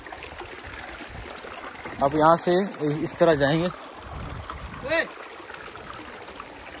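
Flowing stream water at the Singaul waterfall in Nepal, a steady rushing wash running throughout under several people talking nearby.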